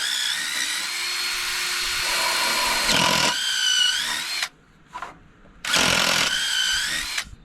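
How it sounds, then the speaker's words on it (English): A power drill drives screws through a ski to make pilot holes, whining loudly and close in bursts of several seconds, pitch rising and falling as the bit bites, with brief pauses between runs. "I basically shoot them all the way through with the standard size screw that's like a drill bit"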